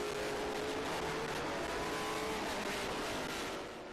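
A Chevy Corvette race car on a road-course track at a Trans Am and SVRA race weekend, its engine droning loudly and steadily with a broad roar that eases slightly near the end, no talk.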